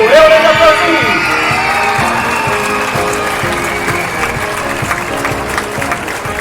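An audience at a school gala applauding the teachers, a dense burst of clapping from a crowd, loud and sustained, tapering gently toward the end.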